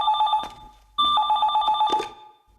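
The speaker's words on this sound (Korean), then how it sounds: "전화 왔습니다" A telephone ringing in a North Korean soap opera scene: two loud, close bursts of electronic bell trilling separated by a short gap, with clattering sounds nearby and no talk.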